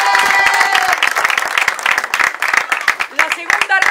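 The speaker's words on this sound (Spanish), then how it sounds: "se le merece un gordo aplauso" Guests at a family celebration clapping, loud close applause with distinct hand claps, overlapped by cheering and lively voices.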